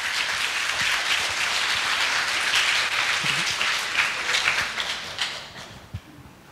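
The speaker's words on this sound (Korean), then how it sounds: "제시랑 마리아나 그리고 친구분에게 박수 한번 보내주시고" Audience applause at an academic conference closing session, a full wash of clapping that stays strong for several seconds, then tapers off into a few scattered claps and light room noise.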